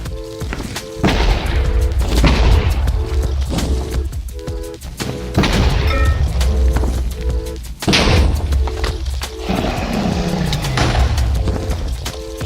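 Respawn anchors blowing up one after another in a Minecraft overworld setup, a run of loud booming explosions with heavy thuds spread across the clip, repeating at short intervals over a game soundtrack.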